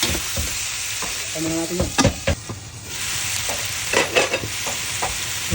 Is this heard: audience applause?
no